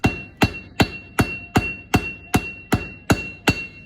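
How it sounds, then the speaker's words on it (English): Steady metal hammer blows shaping a red-hot iron axe head, ten sharp ringing strikes at an even pace, close and loud with a faint metallic ring between hits. "We're just going to hammer it to try and get that symmetrical curve"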